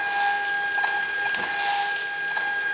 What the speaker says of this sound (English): if you can hear the printer